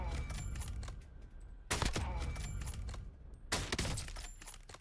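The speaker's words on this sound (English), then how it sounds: "switch over to the sniper real quick. Take a few shots with that." Sniper rifle shots in a video game, fired as warm-up headshots: a few loud, sharp cracks spaced well apart, mixed in with other game sounds.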